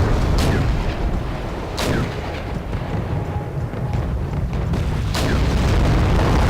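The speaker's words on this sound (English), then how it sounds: "he's now brought his artillery back into range and can start using them" Deep artillery booms from the Wargame: European Escalation video game thud out at irregular intervals, with three or so distinct blasts over a constant low rumble of battle.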